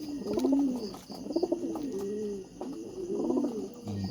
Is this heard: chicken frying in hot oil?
no